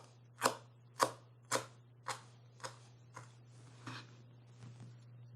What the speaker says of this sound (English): I'm going to cut the dill very finely.